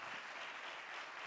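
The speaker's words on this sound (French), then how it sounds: "Je vais vous demander d'applaudir Arnaud Coez" A short burst of steady audience applause at a closing session of an audiology college conference, even and moderately loud throughout.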